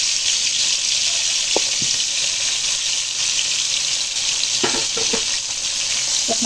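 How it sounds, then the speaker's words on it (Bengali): Eggplant pieces fry in hot oil, a loud, steady close-up hiss with a few soft knocks and clatters of pieces or a utensil, no voices. "তেলটা গরম হয়ে গিয়েছে, এখন আমি দিয়ে দিচ্ছি বেগুন।"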